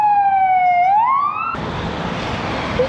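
An emergency vehicle siren wails through a Romanian city street, a clear rising and falling tone. It cuts off abruptly partway through and leaves a broad roar of street noise behind.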